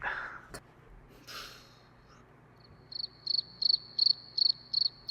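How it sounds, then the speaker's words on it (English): Crickets chirp in a steady rhythm of short pulsing trills after a few quiet breaths and rustles. "Crickets."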